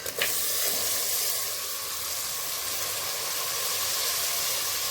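Pieces of crab are dropped into a hot pan for crab curry and hiss into a loud, steady sizzle, with a brief clatter at the start as they go in and stirring after.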